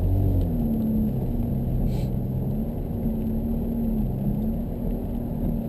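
A Ferrari F430 engine pulls away under light throttle as a deep, steady rumble with a faint rising hum, heard from inside the car and continuous throughout.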